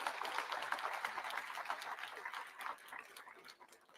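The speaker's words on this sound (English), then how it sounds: "a big round of applause to the entire organizing committee" Audience at a startup event applauding the organizing committee, a sustained round of many hands clapping, moderately distant and steady, fading slightly toward the end.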